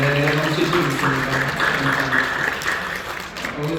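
A church congregation applauds during a Sunday worship service, a dense, steady clapping from many hands that fills the hall and fades slightly toward the end.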